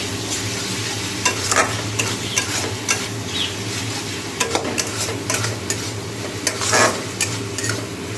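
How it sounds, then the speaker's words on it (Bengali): Lentil fritters being stirred in a pan with sauce and onion, a loud steady sizzle with frequent scraping and clinking of the spoon, close up and without speech. "এই যে সস দিয়ে পেঁয়াজ দিয়ে নেড়ে এই বড়াগুলো দিয়ে দেবো"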